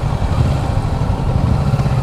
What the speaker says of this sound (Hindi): ये भैया कावासाकी निंजा 650 है।